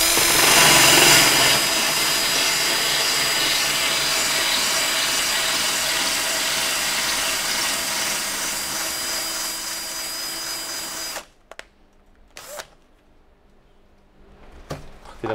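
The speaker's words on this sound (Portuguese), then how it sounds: "Fazer um bocadinho de barulho, sempre entrar com a broca a trabalhar." A power drill with a tile bit boring through ceramic tile, a loud continuous grinding whine that runs steadily for about eleven seconds before cutting off, followed by a few short clicks and bumps.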